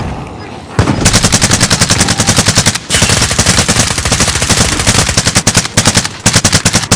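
Rapid automatic gunfire roars loud and close in a zombies-mode video game. The shots repeat in a steady, dense rhythm almost the whole time, with brief gaps between bursts.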